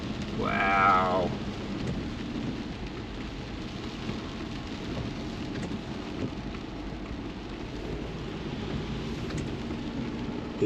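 Heavy rain pours onto a flooded field, a steady broadband hiss and patter, with a brief whistling tone near the start and no voices.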